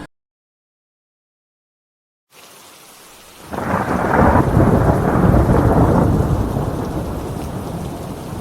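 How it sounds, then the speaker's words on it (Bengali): Heavy downpour with thunder as a cartoon sound effect: after silence a soft hiss begins, then a loud roaring rumble of thunder swells over steady pouring rain and slowly fades, with no voices. "বাইরে তো এখন মুষলধারে বৃষ্টি হচ্ছে"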